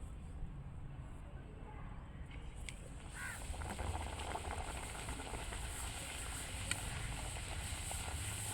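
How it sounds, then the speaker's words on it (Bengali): Green pea kachoris deep-frying in oil, a steady close sizzle and crackle throughout, with faint stirring clinks and light background murmur. "আমি কিন্তু এক এক করে ভেজে তুলে নিচ্ছি"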